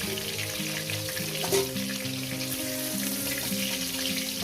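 Cubes of paneer frying in hot oil in a home kitchen, a steady dense sizzle and crackle throughout with a faint clink midway.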